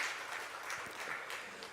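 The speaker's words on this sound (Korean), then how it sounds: "우리 박수 한번 쳐주시겠습니다." A church congregation at a Korean Methodist Sunday afternoon service applauds together, a faint, steady wash of clapping that stays even and soft throughout the short stretch with no voices on top.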